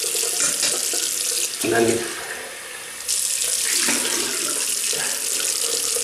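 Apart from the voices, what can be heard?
water tap running while rinsing soap off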